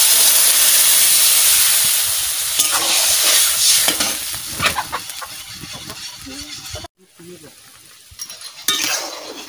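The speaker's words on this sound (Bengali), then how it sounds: "জল দিয়ে দিচ্ছি।" Water goes into a pan of fish and banana curry, giving a loud hissing sizzle that fades and turns into quieter bubbling with stirring, broken by a brief pause.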